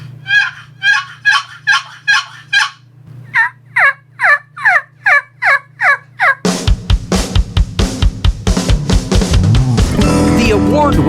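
A hunter's call imitates a fall turkey gobbler with rapid bursts of clucking yelps in two runs, followed by a loud, harsh, dense rattle that fills the sound.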